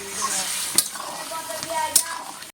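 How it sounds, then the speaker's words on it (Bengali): Meat masala with coriander powder is stirred in a hot pan for a red amaranth stem curry. It gives a steady frying hiss and two sharp spatula knocks against the metal, close up, with no talking. "মশলাটা তৈরি হয়ে গেছে, ফেলে দিলাম, দিয়ে একটু নাড়াচাড়া করে নেব"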